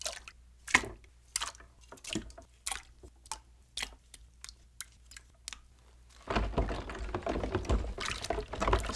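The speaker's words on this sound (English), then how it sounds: "I'm going to take all of these plastic components and give them a good soak" Plastic parts from a smoke- and soda-damaged Nintendo Wii clatter and drip into a water bath in a series of separate close splashes and knocks, then give way to a steady, louder wash of pouring or stirring water.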